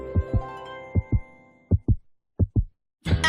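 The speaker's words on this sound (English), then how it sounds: "Now to hear our two beating hearts on the first day of forever." Paired heartbeat thumps from a video game sound in a steady lub-dub rhythm, four double beats that are close and fairly loud, followed by a brief burst of game noise at the end.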